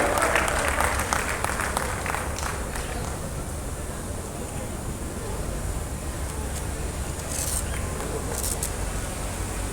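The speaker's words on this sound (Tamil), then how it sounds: "மீண்டும் உங்களுக்கு கைத்தட்டல் கொடுத்தலாம்." Audience applause at a Tamil film trailer launch event, a loud, dense crowd clapping that starts strongest and holds steady, with some cheering and background chatter mixed in.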